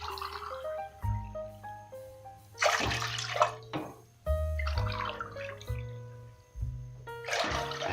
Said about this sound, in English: And I'm going to add in 4 cups of water.